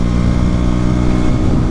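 A 125cc motorcycle being ridden through twisty roads and picking up speed. The engine drones steadily and loudly through the whole stretch, with no voices.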